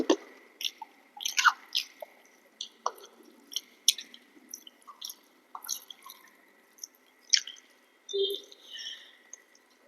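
Close, wet chewing of chana dal fritters (bora) fried in mustard oil, with soft squishy bites and moist smacking in irregular bursts, and no talking.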